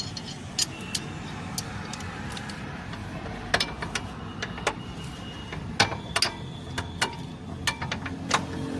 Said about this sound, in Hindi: अब इसका चेसिस का एक और बोल्ट टाइट मारेंगे।